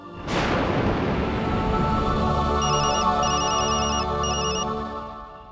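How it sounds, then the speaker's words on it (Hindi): Phone ringing in a Hindi TV drama: a sudden boom opens, then a repeating electronic ringtone pattern of short, bright chimes sounds in bursts over a sustained musical drone. "तुम्हारा फोन बज रहा है"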